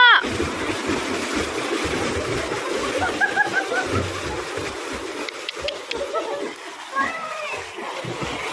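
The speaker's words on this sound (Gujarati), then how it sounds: "ઓછું પાણી ઉડાડો" Children splash and jump into water in a farm pool, bursts of splashing mixed with kids' shouts and chatter across the scene.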